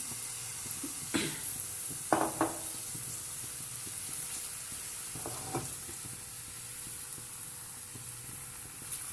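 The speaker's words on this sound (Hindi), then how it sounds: "अब ये देखें ये बैटर लेंगे और ये डालते जाएंगे, और फिर मैं इसको फैलाऊंगी।" Onion paratha batter poured and spread across a hot pan, giving a steady soft sizzle with a few sharper bursts of frying as more batter lands, close and fairly quiet, with no talking.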